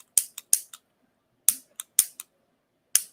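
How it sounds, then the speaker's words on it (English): A cigar lighter flicked repeatedly without catching: four crisp clicks, then two and two more, sharp close taps in uneven bursts with silence between. "You can hear it not clicking, not wanting to be a lighter."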